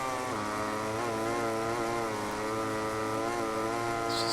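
Simulated motorcycle engine from MotoGP 18 on Xbox One X, revving steadily at high pitch with small throttle dips and rises, a continuous loud whine filling the whole stretch with no talk over it.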